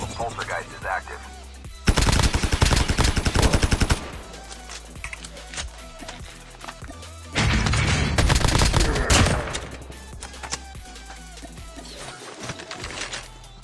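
AK-47 fire in Call of Duty Mobile comes in two long, loud, rapid automatic bursts separated by quieter stretches of game ambience, with faint bird-like sounds between the bursts.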